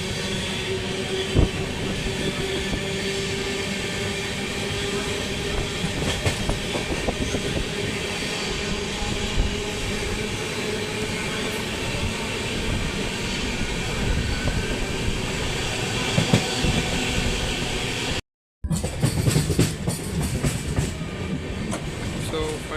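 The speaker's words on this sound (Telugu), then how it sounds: "ట్రైన్ ఇప్పుడే కొంచెం కొంచెంగా స్పీడ్ పెరుగుతుంది" An express train runs from Secunderabad to Sirpur Kagaznagar, heard from aboard as it gathers speed past Mandamarri station: a steady rumble with rhythmic clickety-clack of wheels on rail joints, continuous and loud, broken by one brief dropout near the end.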